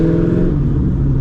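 A straight-piped, cammed C5 Corvette rumbles loudly from inside the car while driving, a deep, choppy burble with a steady drone as the exhaust holds a cruise, no speech.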